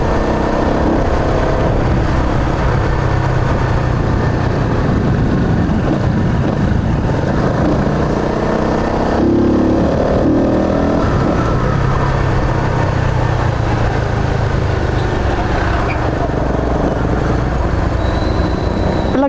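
Rusi Flash 150 motorcycle ridden at around 90 km/h, a loud continuous engine drone mixed with heavy wind buffeting, steady throughout with a slight surge midway, no voices.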